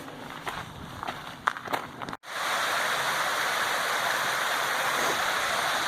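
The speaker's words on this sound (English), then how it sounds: "You see this little waterfall." A small waterfall beside Ice House Trail on the way up Cucamonga Peak, rushing steadily and loudly up close after a few seconds of footsteps and quieter trail sounds.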